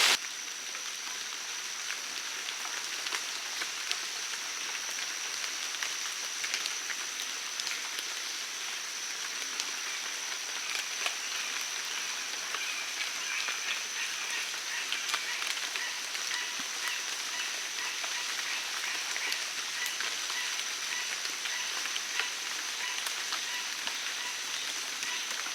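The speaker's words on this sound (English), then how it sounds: "a little bit of rain coming through." Light rain falling in a rain forest, a steady, even patter of drops on leaves and surfaces that continues unchanged throughout, with a faint high insect tone in the background.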